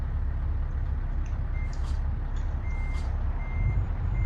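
In Euro Truck Simulator, a game truck engine rumbles low and steady while a reversing alarm beeps in a regular pattern, close and fairly loud, with a faint air hiss.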